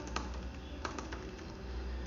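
Typing on a computer keyboard while coding, with fairly quiet, irregular key clicks and a few louder taps, close and alone.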